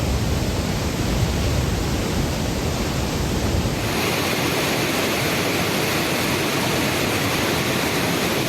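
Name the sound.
Thirparappu waterfall water roaring down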